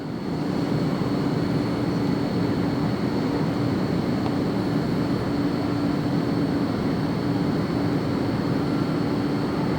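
A Boeing 787 Dreamliner jet lands on the south side at LAX, heard as a steady, loud broadband roar with a low engine hum that holds evenly throughout, with no talking.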